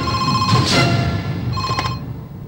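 An indoor telephone rings twice in short electronic bursts, fairly loud, over a faint low room hum with no talking.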